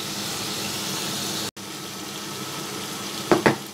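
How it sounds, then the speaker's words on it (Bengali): Prawns frying in a pan of hot oil, giving off a steady, close sizzle with a brief break partway and a couple of louder spits near the end. "মাছটা ভালো করে ভাজা ভাজা হবে।"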